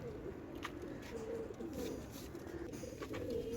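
Pigeons of high-flying and Madrasi breeds kept for sale, soft low cooing repeated in several overlapping calls at moderate distance over a faint background hum.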